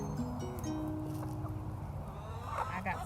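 Hens in a barnyard near a hen house, close clucking and short fowl calls over a continuous background, with a voice talking at points.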